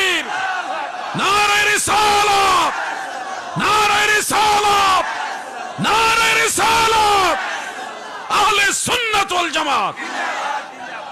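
A large crowd at a religious gathering roars a chanted slogan back in answer to the Nara-e-Takbir call, several loud unison shouts in a rhythmic call-and-response pattern with short gaps between.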